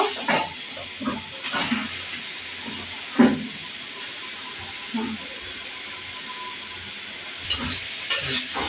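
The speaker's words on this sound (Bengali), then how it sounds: "আঁচ কমিয়ে আমি এখন আস্তে আস্তে করে গাজরটা ভেজে নিচ্ছি" Carrots frying gently in ghee over low heat give a soft, steady hiss with occasional scraping stirs and clinks from the pan, moderately close and fairly quiet.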